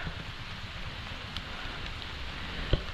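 Steady rain hisses over a rice paddy in the countryside, a constant even wash with one sharp tap near the end and no talking.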